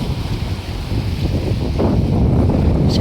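Wind buffets the microphone over a steady roar of sea at Abu Talat beach in winter. The calm water breaks in small waves, loud and continuous, with no voices.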